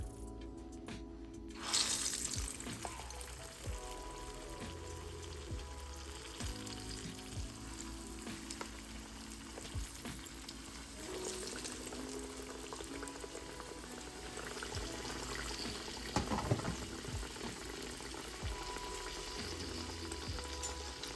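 Canned-biscuit apple pies fry in hot oil, first faint and then a loud steady bubbling hiss that swells as pieces drop in and persists for about twenty seconds, with occasional clinks and rustles.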